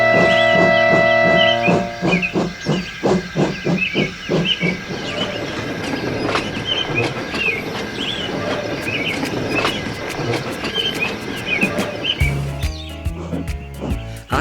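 Steam engine James from the Trainz game puffs with a steady chuffing rhythm that starts rapid and loud, then blends into a busy mix of hiss, clanks and bright chirping tones, ending with low whistle-like blasts.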